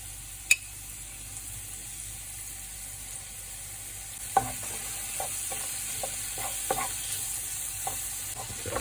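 Onions and garlic sizzle steadily in a pan, a constant frying hiss broken by occasional clinks and scrapes as they are stirred.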